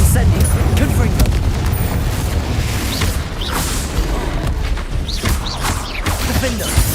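Spell blasts from the Confringo explosion curse in Hogwarts Legacy boom repeatedly amid dense combat noise, loud and close, with shouted spell incantations over the top.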